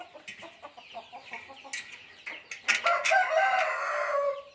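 A rooster crows on a farm, preceded by a series of short clucks, with the crow rising loud and close near the end and no one talking.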